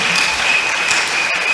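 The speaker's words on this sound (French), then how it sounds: "Applaudis pour Jésus." A church congregation claps for Jesus in a dense, loud burst of applause that fills the room, with no voices over it.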